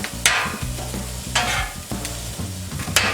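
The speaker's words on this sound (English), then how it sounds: "Just use your spatula just to kind of like chop it up." A metal spatula chops and scrapes overcooked brisket on a 36-inch Blackstone griddle, with three sharp clacks spaced across steady nearby sizzling.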